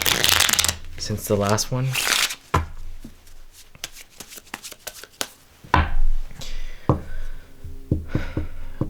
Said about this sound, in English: Let's shuffle a little bit better since I haven't shuffled it too much